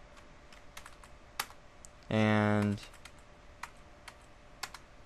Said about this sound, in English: type in AF interface Ethernet 1/0 and type in no shutdown